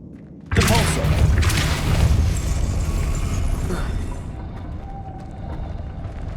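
The Repulso spell cast in Hogwarts Legacy bursts out as a sudden loud boom with a rushing, roaring wash that gradually thins over several seconds.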